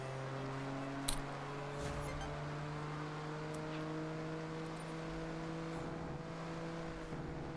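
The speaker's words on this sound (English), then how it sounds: "Let's absolutely destroy this AMG. This handles nicely." A Mercedes AMG engine drones steadily while driving in Forza Horizon 6, a constant low hum with a few faint ticks and knocks, quiet and unbroken throughout.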